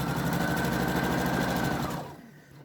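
Sewing machine running steadily while stitching the seam of the last quilt strip, a close, rapid, even hum of stitches that winds down and stops after about two seconds.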